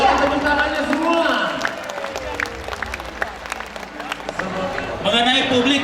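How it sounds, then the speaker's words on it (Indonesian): Applause from an audience at a Makassar city government coordination meeting, a broad wash of clapping that rises and fades over several seconds in a large hall, with a voice over the sound near the end. "suara tepuk tangannya semua"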